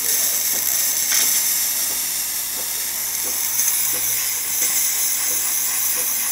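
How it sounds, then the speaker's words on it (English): The steam wand of a DeLonghi Magnifica espresso machine hisses steadily as it builds pressure, a continuous close hiss with faint ticking and clicking underneath throughout. "we're testing the steamer, so as you can see, starting to build up some pressure"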